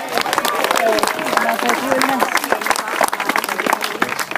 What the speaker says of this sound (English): Give a big round of applause for that.